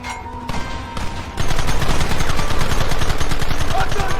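Rapid gunfire in a Red Dead Redemption shootout, a few scattered shots at first and then a dense, continuous volley of loud cracks from many guns firing at once.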